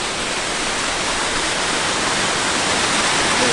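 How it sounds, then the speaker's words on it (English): Rushing waterfall near Mount Rainier, a steady, loud broadband roar of falling water that holds constant throughout, close by and with no voices over it. "Look at this waterfall."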